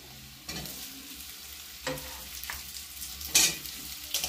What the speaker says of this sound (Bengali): রসুনটাও ভাজা হচ্ছে। এর সাথে আমি দিয়ে দেবো আলু, কেটে রাখা আলু।